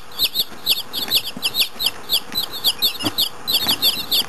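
Baby chicks, one of them a Buff Orpington, peep repeatedly in quick bright chirps at close range, with a few soft rustles between the calls.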